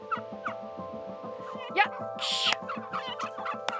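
Turkeys gobbling and chickens clucking among the poultry on a hazelnut farm, a steady chorus of repeated bird calls close by, with brief talk over it.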